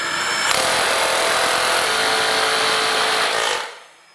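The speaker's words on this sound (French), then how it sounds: "avec une petite mèche, je fais des pré-trous dans le rail et dans le plafond." Power drill with a small bit boring pilot holes through a metal rail into a ceiling, one steady loud whirring run of about three seconds, close up, then winding down.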